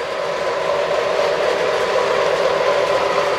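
Santa Fe El Capitan FT diesel model locomotive running steadily on a layout track, a continuous close rolling whir and rumble with no talk.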